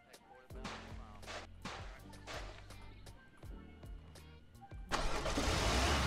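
A car engine in the video game A Dusty Trip, a car that will not start, cranks in a run of repeated bursts and then catches into a loud, sustained roar at the end.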